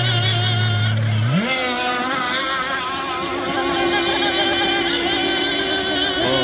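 A high-revving small nitro engine screams loudly and continuously, pitch climbing sharply then holding, as a radio-controlled racing hydroplane tears past nearby.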